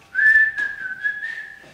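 A person whistles a short, clear melodic phrase of a tune, close and alone, with a few sliding notes over under two seconds.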